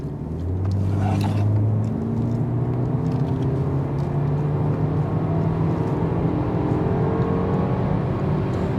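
BMW X2 28i M Sport xDrive SUV accelerating hard from rest, its engine note climbing steadily through the gears as a loud, continuous interior roar with rising tones, no talk over it.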